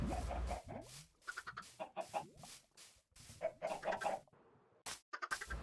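Minecraft chickens cluck in a chicken cooker contraption in the video game, short repeated clucks in quick succession, close and fairly clear with brief gaps between bursts.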